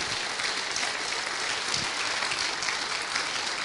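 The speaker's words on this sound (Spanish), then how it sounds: "Dele un aplauso fuerte a Jesús" Loud, sustained applause from a church congregation during a sermon, a thick, even roar of clapping that holds steady throughout and swells slightly near the end.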